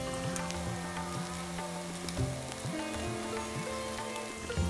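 Poppy seed fritters (posto bora) frying in a pan, giving a dense, steady crackling sizzle with scattered pops throughout, close and continuous with no voices.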